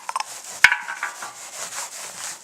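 Brisk scrubbing on a porcelain doll head coated in motor oil, a series of close rubbing strokes with a sharp knock early on.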